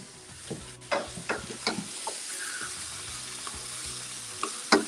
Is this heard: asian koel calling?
no